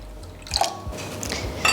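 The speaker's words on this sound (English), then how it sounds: "I'm going to add a half a cup of water." Water poured from a measuring cup into a kitchen bowl of heavy whipping cream while preparing custard, giving a short close trickle and splash with a light clink of dishware.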